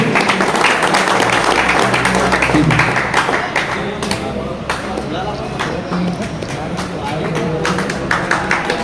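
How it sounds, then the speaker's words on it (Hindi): Crowd applause at a pigeon tournament prize ceremony in Udgir, steady clapping throughout under a loud voice talking over it. "तालियां बजावे जोरों से।"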